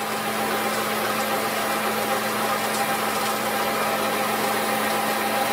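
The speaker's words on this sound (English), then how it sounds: "It's a relatively quiet projector, except for the fact that the main drive wheel isn't engaging" A steady, even mechanical hum and whir from a Bell and Howell 8mm Filmo projector's motor running with its main drive wheel not engaging, continuous and fairly loud throughout.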